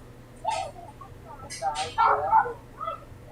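A dog barks several times in quick, uneven bursts indoors, fairly faint and somewhat distant, over a low steady hum.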